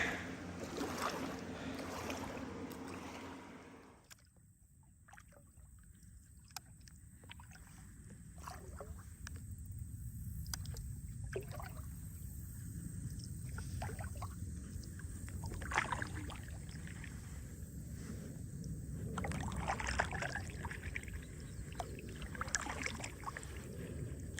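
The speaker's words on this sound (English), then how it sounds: "Right when the boat was getting ready to pass, I can hear them coming up the river." A boat engine drones steadily as it passes on a river, with water sloshing nearby, punctuated by scattered knocks and clatters over about twenty seconds.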